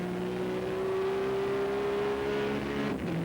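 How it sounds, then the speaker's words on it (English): Onboard a GT race car during a 2000 FIA GT race, the engine holds a loud, steady, droning note with a slowly rising pitch and constant road and wind roar underneath. "we're on board now with Christophe Bouchou, leader of the NGT car championship."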